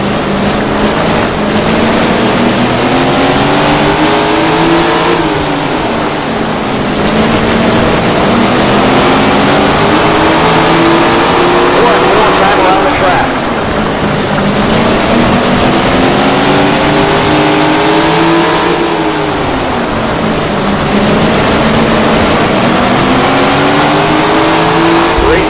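Several 410 sprint car engines roar loudly and continuously in Tony Stewart Sprint Car Racing, their pitch climbing and falling in repeated waves as the cars accelerate and lift, with no talk over them.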